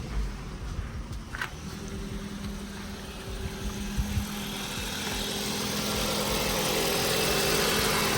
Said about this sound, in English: Just gonna give the engine a quick start so you guys can hear how it's running